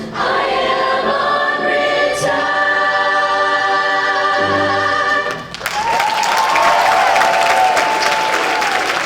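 A pops concert ends with sustained music, then a large audience breaks into applause for the soloists, a broad steady wash of clapping that rises after the final notes and carries on.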